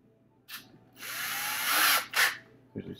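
A small 1/16-inch drill bit whirs in short, close bursts while clearing a clogged paint bottle: a brief spin, a longer run, then another quick burst, with pauses in between.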